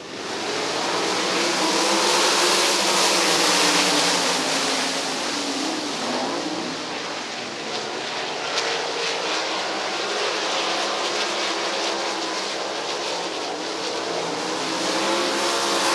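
Dirt track race cars in a Commonwealth Clash night feature roaring together as the field accelerates away from the pace truck onto the green flag, a loud, dense engine wall holding steady throughout.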